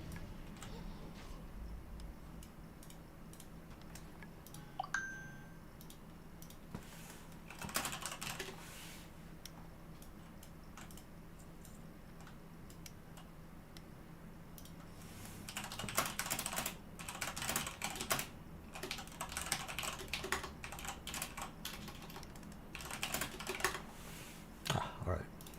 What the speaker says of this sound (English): hang on, wifey's typing